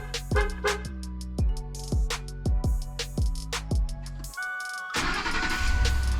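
A 2009-2010 Ford F150 pickup starts by remote start: a series of rhythmic starter cranks, then the engine catches and settles into a loud, close idle with rising roar.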